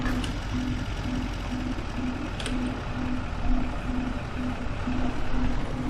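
A tractor engine idles steadily in Farming Simulator 25, a loud continuous low rumble with a regular pulsing beep-like tone repeating about twice a second, two brief clicks near the start.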